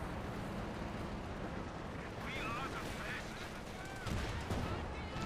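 Mortar shells and small-arms gunfire rumble through a Company of Heroes 2 one-versus-one match, Wehrmacht against US Forces, as a dense, steady wash of distant battle noise with no single shot standing out.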